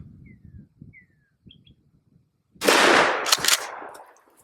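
A 12 gauge shotgun loaded with Federal Flight Control buckshot fires one loud, sharp blast outdoors, ringing into a decaying echo, after quiet rustling and a few distant bird chirps.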